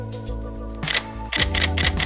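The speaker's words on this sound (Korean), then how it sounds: "경쾌한 셔터음이 들리는데" A Canon camera shutter fires several crisp, quick clicks in short bursts, close to the microphone, over a steady low background hum.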